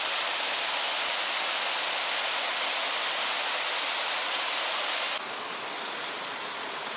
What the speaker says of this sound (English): Lovely cascading waterfall.